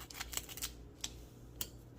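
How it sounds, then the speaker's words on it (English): Scissors snip open a packet of coffee maker cleaner: a few sharp, quiet clicks and snips, two close together early and then single ones spread apart, with no talk. "We get our scissors, give it a cut."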